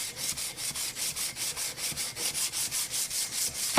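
Hardened O1 tool-steel knife blade being hand-sanded at up to 320 grit before rust bluing, with quick, regular back-and-forth strokes rasping close by and no voices.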